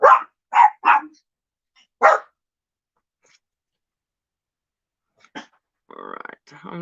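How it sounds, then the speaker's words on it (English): A dog barks indoors: four sharp, loud barks in quick succession, then silence, followed by a couple of softer sounds and a brief rattling noise near the end. "Dogs are not happy."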